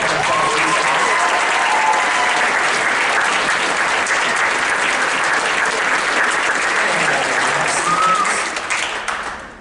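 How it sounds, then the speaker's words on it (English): A large audience at a high school band Christmas concert claps loudly and steadily, the sustained applause fading slightly at the very end. "would you also stand up so we can clap for you as well?"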